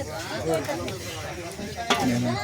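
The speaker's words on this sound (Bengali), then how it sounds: "আর একজন নাড়াচাড়া করেছে যাতে সম্পূর্ণ জায়গায় লবণগুলো মিশে থাকে" A pot of tomato chutney with apple, dates and raisins is stirred over a wood-fired village stove, giving continuous scraping and bubbling sizzle, with a voice faintly in the background.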